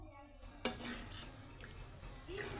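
A ladle stirs dal fry in a metal pot, giving a sharp clink and soft scraping under low kitchen background, with faint voices nearby.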